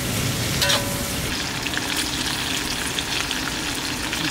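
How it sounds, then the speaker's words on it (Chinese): Chili peppers hitting hot oil in a wok for a home-cooked Chinese dish, giving a steady, loud, close sizzle and crackle that holds evenly from start to finish with no talking. "辣椒下锅，"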